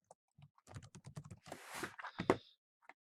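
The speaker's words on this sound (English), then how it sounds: "you can always type in the URL bar Google Drive" Quick typing on a computer keyboard into a web browser's address bar, a brisk run of close, crisp key clicks ending in a heavier keystroke.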